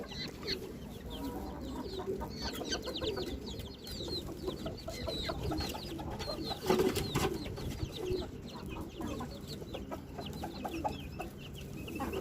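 Chickens and a rooster cluck on a rooftop, a busy overlapping mix of clucks and squawks with one louder call near the middle, no speech.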